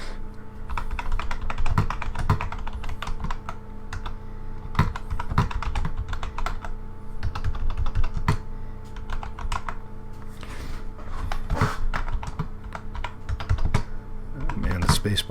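Steady typing on a computer keyboard, dense rapid clicks and occasional heavier spacebar thumps running continuously and close up, with brief speech faintly underneath.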